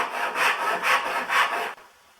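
A hand saw cuts through wood on a bench hook in three even back-and-forth strokes, rasping and close, then stops.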